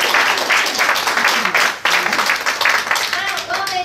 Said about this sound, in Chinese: 那请给他一个掌声